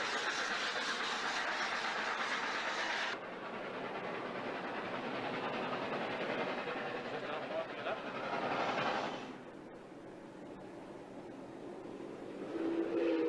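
A steam locomotive with 18 to 24 inch pistons runs steadily, giving a continuous broad rumble and rush that shifts in intensity partway through, with a voice talking over it.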